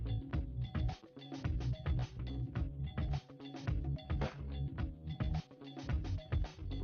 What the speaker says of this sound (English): Let's first start by removing the two Phillips screws that are securing the dock port connection